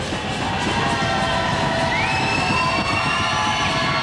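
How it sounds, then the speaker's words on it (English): A crowd at a 1997 high school basketball game between Delsea and Williamstown roars steadily, a dense wash of cheering and shouting that stays loud and constant throughout, with a faint whistle-like tone rising partway through. "Crowd makes some noise"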